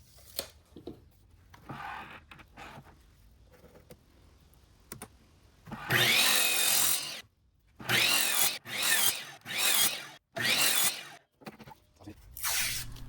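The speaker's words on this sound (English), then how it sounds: "Then I'll cut them to length, which is 5 1/4 inches long." Wood pieces are cut to length on a saw, with five loud bursts of cutting noise spaced a second or two apart, the first longest, separated by quiet gaps holding faint handling clatter and small knocks.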